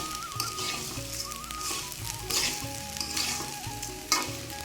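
Rice and lentils fry and sizzle in a pan for vegetarian bhuna khichuri, with a steady crackle broken by scraping sounds of stirring, close and moderately quiet.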